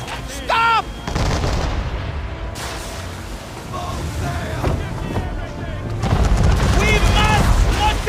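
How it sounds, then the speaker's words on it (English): Gunfire aimed at a ship in Assassin's Creed III Remastered: repeated sharp, booming shots and rumbling blasts keep up for several seconds beneath shouting voices. "Why are you shooting my ship?"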